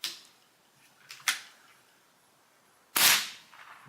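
Three sharp, snappy shots from an Umarex Komplete NCR air rifle running on a refillable Notos cylinder, fired singly with pauses between them. The last crack is the loudest and each has a short tail.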